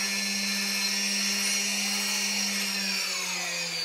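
Drone motors on a Naza flight controller whine steadily at almost half throttle, a close, continuous high-pitched electric hum with a constant low tone that dips slightly near the end.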